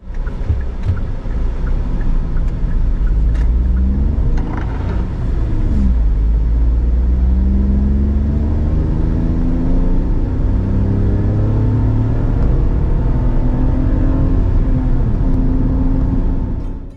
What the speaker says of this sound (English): It has a massive 1 litre engine, which strangely, at times, sounds like a tank.